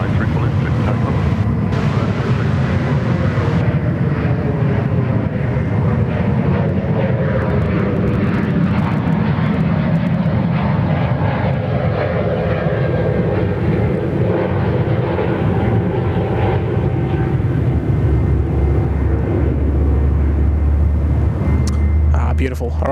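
An Air New Zealand airliner takes off at Sydney Airport, its jet engines roaring loud and continuous throughout, with a sweeping tonal whine as it accelerates and wind buffeting the microphone.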